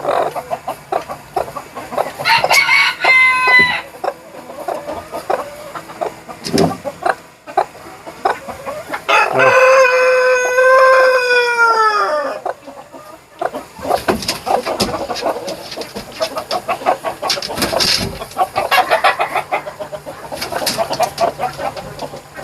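A rooster crows loudly and nearby in a chicken coop during a heatwave, one long rising-falling crow in the middle, with hens clucking and scattered poultry calls before and after.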